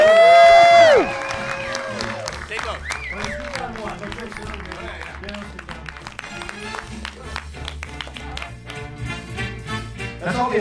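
A studio audience cheers and claps for a celebrity guest, the clapping and whoops rising unevenly behind a loud voice and music-like tones, and a brief burst of shouting at the start.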